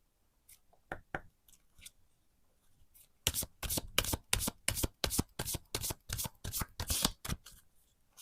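Tarot cards being shuffled by hand: a few scattered riffles at first, then a fast, regular run of crisp, loud shuffling snaps close to the listener.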